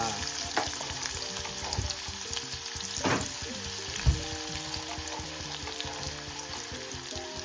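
Oil sizzling in a kadai with curry leaves, a steady crackling fry punctuated by clanks and scrapes of a spatula stirring against the metal.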